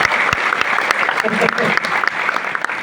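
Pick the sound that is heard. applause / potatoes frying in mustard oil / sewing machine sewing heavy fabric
applause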